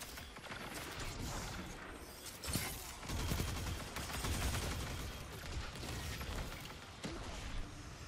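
Shotgun fire in a multiplayer shooter video game, heard as dense, continuous gunfire and blasts with a few louder pops, busy and fairly distant-sounding under game noise.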